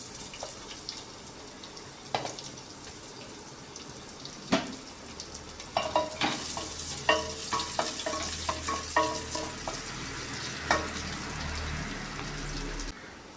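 Chopped onions dropped into a hot pan for chicken biryani and fried, a steady crackling sizzle that grows busier partway through, with scattered clinks and scrapes of stirring up close.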